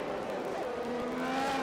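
A Formula 1 car in the F1 2021 video game losing traction out of the Loews hairpin at Monaco: a steady, close engine drone with a rising, wavering pitch as the wheels slip under acceleration.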